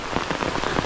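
Heavy rain pours down in Kerala, a dense continuous hiss of drops hitting surfaces, loud and close throughout with no voices.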